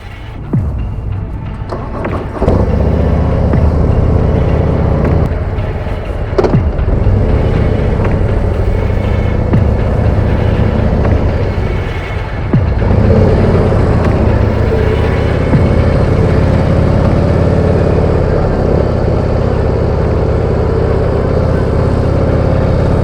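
The engine of a 2026 Harley-Davidson Police Road Glide motorcycle rumbles loud and steady throughout, a dense low drone with slight swells, heard up close while riding.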